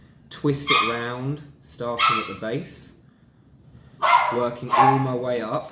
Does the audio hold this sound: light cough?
no